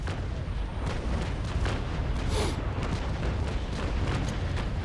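Broadside cannon volley from a sailing warship in the naval combat game Naval Action during a Belle Poule duel, a dense rolling barrage of booming shots blending into continuous loud rumble with no speech.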